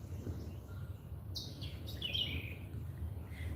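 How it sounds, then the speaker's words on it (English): Birds chirp in trees beside a muddy river, a few bright high tweets and short trills clustered midway, moderately distant over a soft steady background hum. "I'm joking, it's birds."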